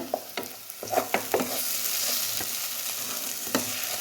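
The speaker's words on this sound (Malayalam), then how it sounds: "ഇനി അത് നല്ലപോലെ ഒന്ന് ഇളക്കി ഉള്ളിയായിട്ട് യോജിപ്പിക്കണം" Chicken and onions sautéing in a pan, a steady close sizzle with scattered sharp scrapes and clinks of stirring at an uneven rhythm, no voices.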